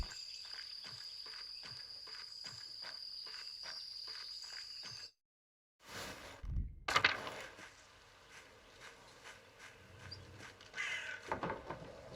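A bird caws in the video game Pentiment, with a few harsh calls ringing over a steady chirping, insect-like ambience, then brief silence and clattering game sounds.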